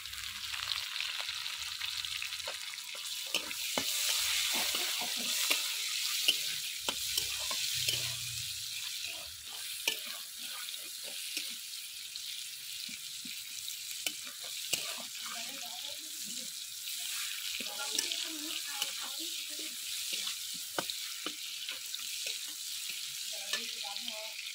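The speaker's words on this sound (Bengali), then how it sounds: "চিংড়ি মাছ ভাজার তেলে দিয়ে দেব কোচানো পেঁয়াজ।" Chopped onion sizzles in oil left over from frying prawns, a soft continuous crackle with scattered sharper pops and faint clinks over about twenty-five quiet seconds.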